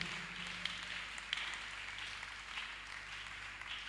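Faint, distant clapping from a church congregation during a couples' weekend service, a soft steady patter of hands with a few sharper claps standing out, low and diffuse throughout.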